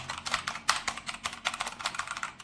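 Fast typing on an ASUS ROG Azoth 75% gaming keyboard with red switches, giving a rapid, loud, clacky run of keystrokes up close, with no voice.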